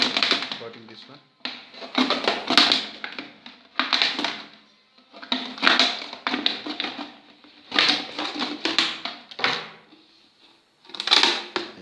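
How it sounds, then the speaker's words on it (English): A plastic bottle being cut, heard as bursts of crisp crackling, snipping and crunching of thin plastic in irregular clusters, close and fairly loud, with a person talking at points. "I'm just going to cut it again."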